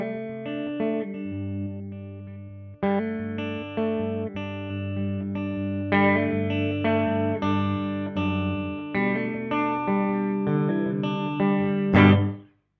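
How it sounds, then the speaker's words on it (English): Electric guitar chords through a Boss RV-6 reverb pedal ring out through heavy reverb and delay, notes smearing into a washy, sustained tail that swells and then cuts off abruptly. "you get almost like this immediate, it's almost like a reverb sound"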